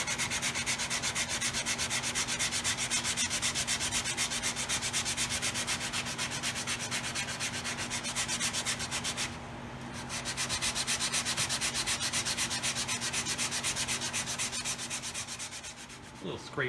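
Steady close rasping of 120 grit sandpaper on a wood block during a Harmony Sovereign guitar neck reset. Continuous back-and-forth rubbing strokes run throughout, with a brief pause near the middle and no talk.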